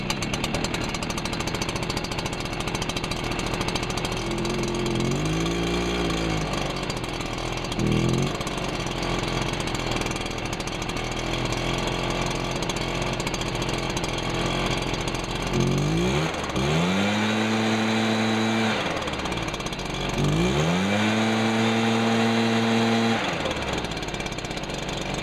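A Stihl SR-450 backpack mist blower's two-stroke engine runs at a steady, loud idle throughout, with several rising-and-falling revs as the throttle is blipped.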